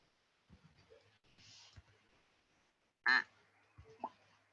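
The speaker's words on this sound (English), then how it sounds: "We have a single lonely duck in the pond." A single duck on a pond gives a couple of short, faint quacks amid quiet outdoor background, with a louder burst near the end.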